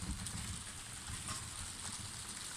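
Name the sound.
heavy rain during a thunderstorm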